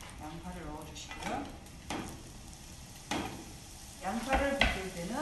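Sliced onion being stir-fried in a pan, with scraping, sizzling and clattering strokes in irregular bursts, close by, while a voice speaks over part of it.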